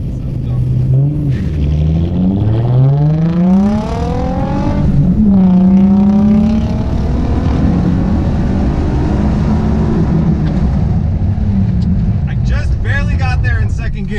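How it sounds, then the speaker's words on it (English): Inside a budget rear-wheel-drive G35 or Mustang, the engine revs hard through second gear with rising, falling and climbing pitch, bouncing off the rev limiter. The engine is loud and close throughout. "You heard the rev limiter hit out"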